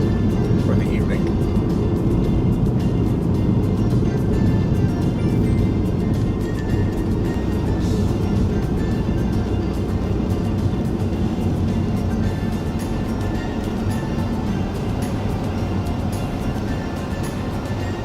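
A car driving around downtown Yakima, Washington, heard from inside as a continuous low road and engine rumble with steady tire noise, broad and unchanging throughout.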